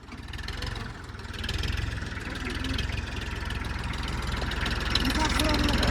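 A tractor engine runs at a steady low rumbling idle, close by and fairly loud, rising slightly over a few seconds while voices speak over it.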